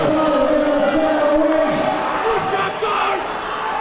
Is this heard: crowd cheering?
yes